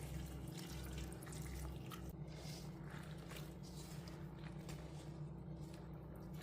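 Dates and other dried fruit are rinsed in a bowl of water by hand, with soft sloshing, dripping and faint squishing close by under low background hum, and no talking.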